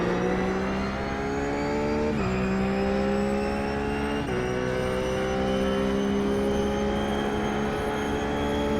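Race car engine in a racing video game lapping the Nordschleife, droning steadily at high revs with two sharp gear-shift drops and climbing pitch, loud and continuous throughout.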